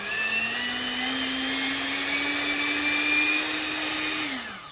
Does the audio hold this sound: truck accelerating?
no